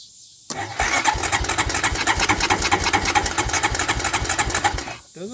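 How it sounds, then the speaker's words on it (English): A 2008 Honda Recon ATV left abandoned for more than fifteen years cranks over on its starter, a loud, rapid, rhythmic churning that begins abruptly, runs steadily for about four and a half seconds, then stops. "Does in fact crank over, so we're good on that."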